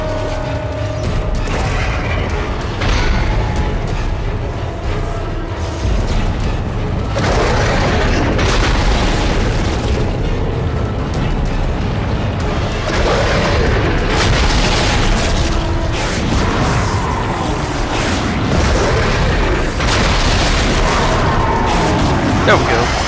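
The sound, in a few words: space shotgun firing in video game Dead Space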